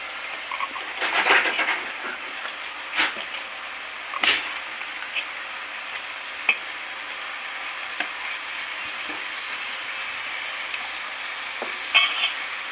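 Eggplant pieces hiss and sizzle in hot oil with ginger, garlic and tomato, a steady fry broken by a few sharp scrapes and stirs of the pan.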